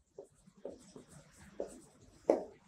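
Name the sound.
writing something down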